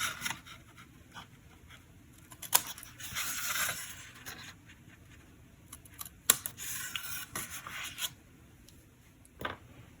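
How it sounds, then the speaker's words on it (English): Small snips trimming little triangles off a paper card flap, repeated crisp snipping cuts and rustling paper handling, close and quiet with a few sharper clicks. "I'll use my snips to go ahead and just trim off little triangles from this little flap here."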